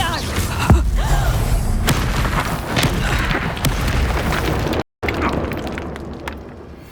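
Spell explosions from Confringo and Reducto blasts in Hogwarts Legacy, loud booming thuds and crackling bursts layered densely throughout, with a brief dropout near the end and game noise continuing after.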